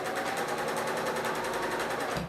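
A Bernina L890 sewing machine runs at speed, its needle giving a fast, even mechanical rattle close up before it slows and stops.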